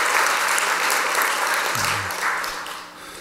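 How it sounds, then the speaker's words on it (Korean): Warm, sustained clapping from a church congregation during a Korean-language Sunday service, loud and steady for a few seconds before easing off slightly toward the end. "우리 박수를 한번 격려해 주시기"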